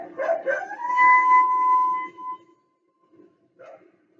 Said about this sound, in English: A coyote's howl can be heard up to 3 miles away.